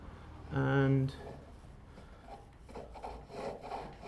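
A gouge cuts a wooden chair leg on a pole lathe, giving a brief tonal squeal and then a steady scraping, rubbing sound of wood being shaved up close, with some faint talk underneath.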